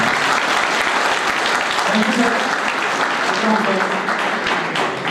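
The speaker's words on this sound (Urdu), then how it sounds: "تو ان کے باپ کے لیے زوردار تالیاں بجائیں" Loud, sustained applause from a seated audience at a Pakistani event for talented students, honouring a student's father. Dense clapping fills the room close and steady for several seconds, with voices murmuring underneath.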